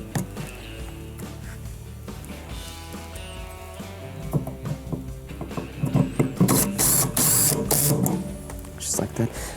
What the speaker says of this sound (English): position the actual turntable motor and then secure it with the 2 T20 screws we removed earlier